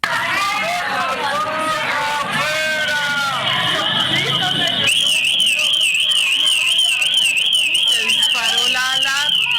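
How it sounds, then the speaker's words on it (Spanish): A crowd shouts and chatters, then a loud electronic alarm begins wailing in a rapid warbling pattern, continuing over the voices. "Hasta la alarma la chifló, vea."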